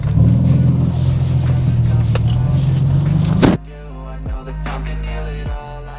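Nissan 350Z on a test drive: a loud, steady engine drone that cuts off abruptly partway through, then lower rumbling with a few soft thumps.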